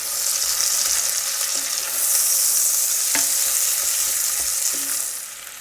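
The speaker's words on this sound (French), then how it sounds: "On va pouvoir maintenant mettre notre oignon et bien gratter les sucs." Onions frying in a pot for Hungarian goulash, a steady close sizzle with a few soft scraping and stirring knocks and no talking.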